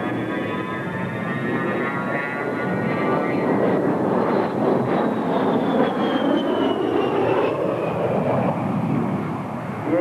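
An A-10 jet flying a tight turn, its engine roar swelling and passing with a whining tone that shifts in pitch, loud and continuous for the whole stretch.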